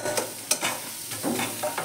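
Egg devil filling frying in a pan, stirred with a few close scraping strokes over a soft sizzle, with no talking.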